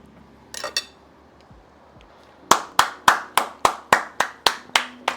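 A single person claps hands in a kitchen studio, first a quick burst then about ten sharp, evenly spaced loud claps, close and alone without talk.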